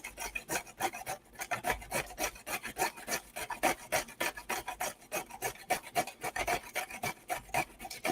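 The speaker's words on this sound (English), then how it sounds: "And yes, this is my broken cheese grater." Carrots rasped against a broken metal cheese grater in a home kitchen, a steady run of quick, rough scraping strokes, close and fairly loud, with no talking.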